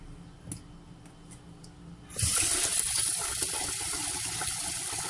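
Water starts pouring suddenly partway through into a cooking pot of groundnut soup, a steady rushing splash that continues loudly to the end after a quiet start.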